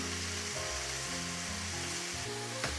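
Steak sizzles and fries steadily in a pan, a constant hiss, with a low melodic hum of background music underneath.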